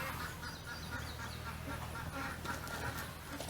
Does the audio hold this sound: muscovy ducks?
yes